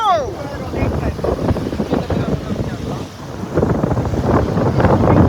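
Sea waves wash and slap around a boat out at sea off an island, with heavy wind buffeting the microphone and a person speaking over the churning water.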